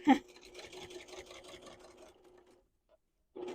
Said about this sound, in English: Just keep your ends tucked in and stitch all the way down both sides.